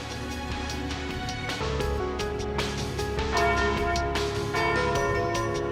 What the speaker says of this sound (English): there's the noon bell